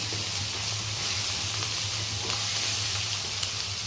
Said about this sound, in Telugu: ఇప్పుడు టమాటో యాడ్ చేసుకుంటున్నాను.